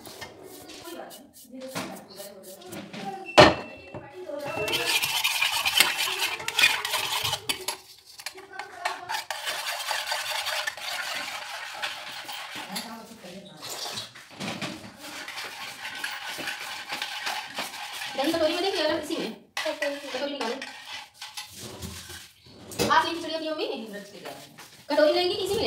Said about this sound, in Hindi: जीरा वही भून के मैं पीस रही हूँ इसी चकले पे, बेलन से ही पीस के डालूँगी इसी में।